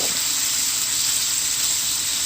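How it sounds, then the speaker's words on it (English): Steady, loud sizzling of a beef patty frying in a hot pan, a continuous bright crackling hiss with no talking. "You want to hear it sizzling."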